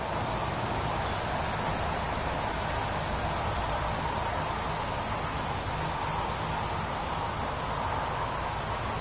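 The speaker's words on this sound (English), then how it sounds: "Goddamn rain. Hasn't stopped pouring since I arrived." Pouring rain in the video game Heavy Rain, a dense, continuous steady hiss of heavy rainfall that stays loud and even throughout, with no other sounds standing out.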